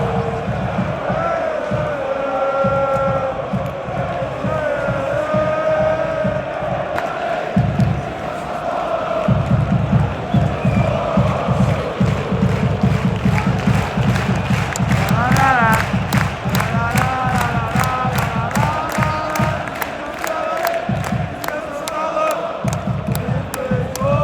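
Premier League football crowd at a West Ham versus Arsenal match, a dense, steady roar of many voices with chanting and sung refrains from a section of ultras rising and falling throughout.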